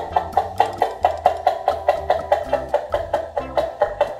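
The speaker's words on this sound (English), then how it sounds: "This is the sound of chicken." A homemade noisemaker of a plastic cup, wet paper towel and yarn is jerked to make repeated chicken-like squawks. About a dozen rhythmic, rasping clucks sound up close in quick succession.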